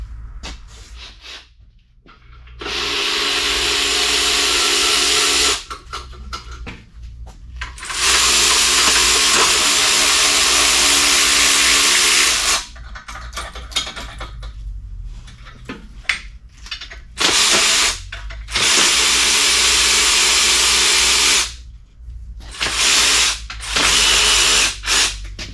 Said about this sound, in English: I have to get my ratchet and take off the head here.